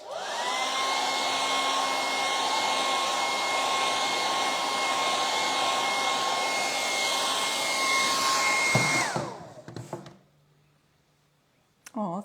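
Hair dryer blowing on a freshly stenciled nativity wise man figure, a loud steady whooshing whine for about nine seconds that then cuts off, followed by a few light knocks and near quiet.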